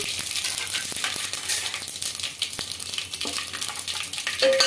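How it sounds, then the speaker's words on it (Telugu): Whole spices such as cloves dropped into hot oil for egg dum biryani, a bright crackling sizzle with quick pops and spatters, close and steady with small clicks of a utensil. "ఇంకా మసాలా దినుసులు అయితే వేసుకుంటున్నా"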